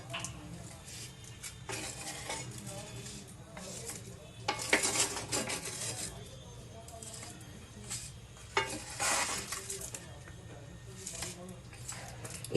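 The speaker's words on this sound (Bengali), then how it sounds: "চলো আবার একটু মিশিয়ে নিই।" Basanti pulao, a sweet yellow rice dish offered as puja bhog, is stirred in a pot, with soft scraping and occasional louder spoon clinks against the metal, under quiet intermittent talk.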